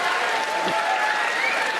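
A comedy show crowd breaks into loud, dense applause that holds steady through the brief moment, with no talk over it.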